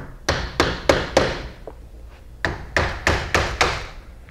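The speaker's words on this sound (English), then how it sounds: "So now I'm going to use my wood block and my hammer to tap it out gently." Sharp hammer taps on a wood block against a storm window frame, knocking out slide bolts, in two bursts of four or five evenly spaced blows, close and fairly loud, with a short pause between groups.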